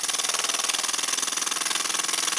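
A Jensen #5 model steam engine races fast with no load, its rapid exhaust beats blurring into a continuous buzzing hiss, close up and steady.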